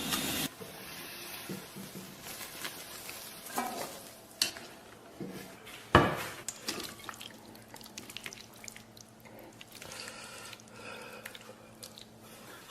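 Noodles and bean sprouts cook in a pot of water heated by a still-warm wok, with soft stirring, dripping and gentle bubbling. One sharp clank comes partway through, and the whole scene stays quiet and close.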